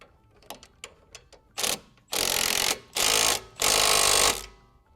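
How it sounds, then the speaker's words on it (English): A wrench works a nut on a Belltech 1.5-inch lift kit installed on a 2021-or-later Ford Bronco Sport: several quick light clicks, then four longer loud bursts of buzzing ratchet action close by. "So we're going to grab it with the wrench"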